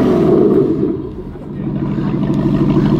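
An Aston Martin Vantage GTA engine rumbles nearby after starting up, idling low and then swelling with revs, while people talk over it.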